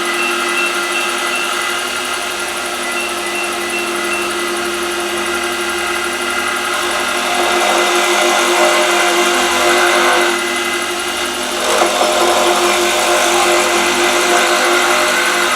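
A serpentine pen blank spinning on a wood lathe and cut with a skew chisel: a steady loud motor hum with a brighter hissing cut that swells midway and surges again near the end, close, no talk.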